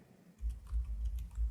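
Computer keyboard typing a terminal command, a quick run of several firm keystrokes arriving in short bursts, close and fairly clear with no talking.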